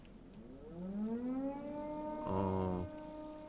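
Siren Head lets out a rising civil-defense-style siren wail in a horror video game, sweeping upward before a loud steady blast that cuts off abruptly, heard alone.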